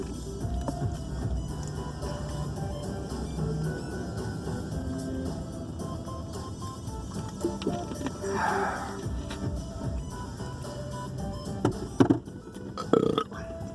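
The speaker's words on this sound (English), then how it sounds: "Excuse me, I burped" A person lets out a burp over a dense, steady room murmur, with a short throaty rise around the middle and a couple of sharper bursts near the end.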